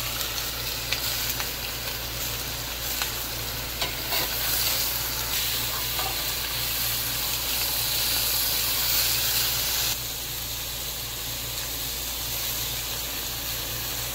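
Rotel tomatoes added to a hot pan and stirred, a steady loud sizzle and frying hiss with scraping stir sounds, continuous throughout with no talking.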